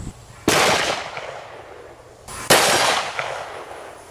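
Two sharp gunshots from a large-bore rifle or revolver chambered in .500 S&W Magnum, .45-70 or .450 Marlin, fired at a steel plate outdoors, each a loud crack with a long ringing decay, about two seconds apart.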